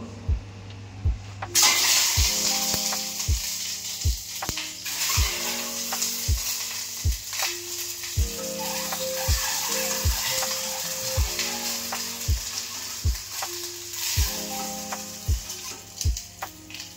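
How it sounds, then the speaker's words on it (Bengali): Boiled eggs fry in a pan with a steady, close sizzle, while a regular run of sharp clicks and taps from a utensil against the pan repeats through the whole stretch. "এখন আমরা ডিমটা ফ্রাই করছি"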